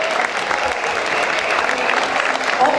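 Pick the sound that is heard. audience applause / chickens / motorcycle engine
audience applause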